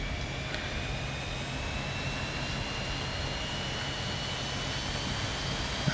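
Hawk T1/A jet engine spooling up on start, a steady broadband roar with a thin rising whine layered on top, constant and fairly close throughout.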